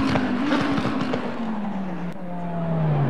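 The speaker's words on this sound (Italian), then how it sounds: "c'è un dettaglio audio di quelli che sono, diciamo, le reazioni del motore alle scalate" Race car engine in the Assetto Corsa Competizione racing game, revving and dropping in pitch through downshifts, with crackling exhaust pops, loud and close and alone.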